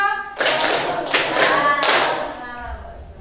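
A group claps hands in a counted rhythm, three distinct bursts of clapping spaced about half a second to a second apart, close and fairly loud, with a voice between them.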